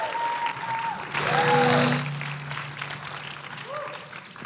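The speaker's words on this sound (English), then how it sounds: "Give them a round of applause." An audience at a conference panel on engaging the next generation applauds, a steady round of clapping that swells in the middle and then tapers off, with a couple of faint whistle-like tones.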